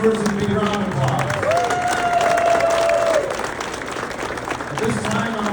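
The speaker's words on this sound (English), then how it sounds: "Let's give these energetic entrepreneurs a big round of applause." Steady applause and cheering from an audience at the Pickleball Kingdom ribbon cutting in Sun Prairie, a dense wash of clapping with a sustained whoop or whistle rising over the crowd in the middle.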